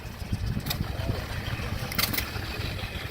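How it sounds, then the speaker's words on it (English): A big vintage stationary engine runs at a heritage gas and steam show, giving a steady low chugging rumble close by, with a few brief sharp clanks over it. "Here's a big stationary engine."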